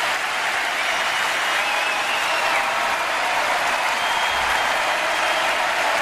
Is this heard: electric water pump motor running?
no